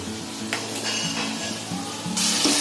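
Misal masala spices sizzle in a pan at a street-food stall while a spoon stirs them, scraping and clinking against the metal in a steady rhythm, and the frying grows louder toward the end.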